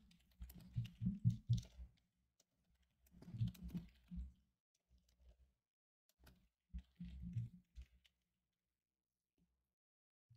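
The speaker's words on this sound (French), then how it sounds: "C'est horrible d'écrire avec le clavier aussi loin." Typing on a computer keyboard that sits far from the typist comes in quiet, muffled bursts of soft keystrokes separated by brief pauses.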